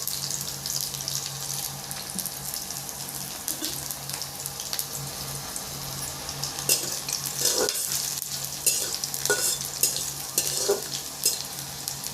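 Steady sizzling in a pan as garlic fries, with occasional stirring clinks and scrapes, moderately close and without voices.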